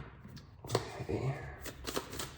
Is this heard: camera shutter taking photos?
no